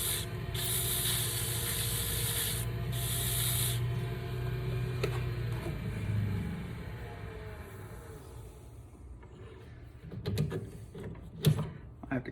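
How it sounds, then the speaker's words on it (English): Steady hissing rasp of a Bois d'Arc (Osage orange, hedge) wood insert being sanded to fit, continuous and fairly close, fading near the end into a few soft knocks and handling sounds. "May be able to just sand that to get it to fit."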